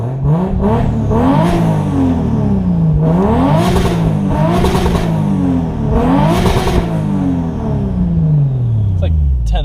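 Inside a Toyota JZX100 Chaser the engine revs repeatedly in rising and falling sweeps, climbing hard toward the rev limiter several times before winding down, loud and close, with people talking over it.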